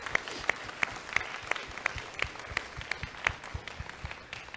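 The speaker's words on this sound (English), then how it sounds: "would you join me just with a hand clap of happy birthday for these guys" A church congregation claps along to a birthday celebration at a Sunday service, with steady, evenly spaced hand claps forming a moderate, somewhat distant rhythmic beat.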